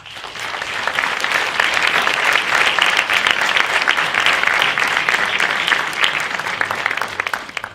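An audience gives sustained, loud applause after a conference talk on degrowth and economics, with dense even clapping building quickly and holding steady for several seconds before tapering slightly.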